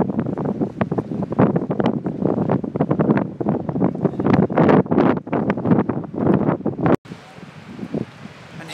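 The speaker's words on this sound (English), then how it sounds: "It's incredibly windy" Strong wind on a seaside pier at Deal seafront, Kent, buffets the microphone in heavy, roaring gusts, then cuts abruptly to a softer, steady rushing hiss near the end.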